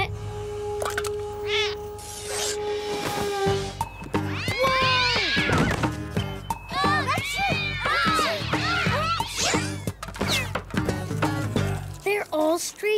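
Stray cats meow and caterwaul repeatedly in a cartoon, loud and close, with overlapping rising and falling cries and voices talking among them.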